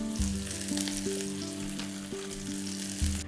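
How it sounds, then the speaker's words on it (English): Falafel frying in a little oil over medium to high heat, a steady close sizzle that holds evenly throughout with no talking. "we're going to fry the falafel in a little bit of oil over a medium to high heat for about 2 to 3 minutes each side"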